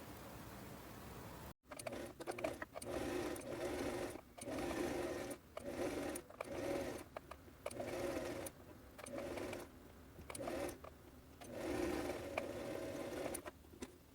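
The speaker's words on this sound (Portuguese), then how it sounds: "E vou passar uma costura normal, uma costura simples, em toda a extensão aqui do bolso." Sewing machine running a simple straight seam along a pocket: steady, close mechanical whirring in bursts of a second or two, with brief pauses and stops between runs.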